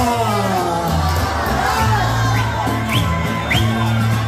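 A festival crowd at a Greek dance performance shouts and cheers in a loud, continuous mass of voices, with music playing underneath and scattered whoops rising above.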